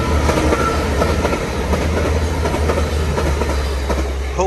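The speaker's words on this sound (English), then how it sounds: "There's a train up there." A Hull to Manchester Piccadilly train rumbles past close by, its wheels clattering rhythmically over the rails under a steady low roar that fills the whole stretch.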